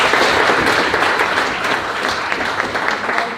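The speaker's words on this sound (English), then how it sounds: "Give that lady a round of applause" A crowd at a live political Q&A event applauds continuously, a dense, even wash of many hands clapping that holds steady and fades slightly toward the end, with no voices on top.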